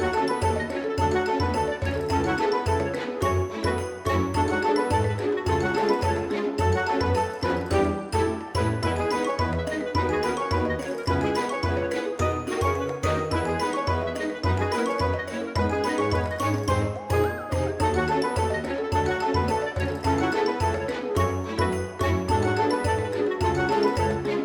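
A bright, tinkling chime loop plays for the Garden's Gates item in Final Fantasy XIV, sounding continuous and dense with layered bell-like notes and a steady rhythmic pulse throughout.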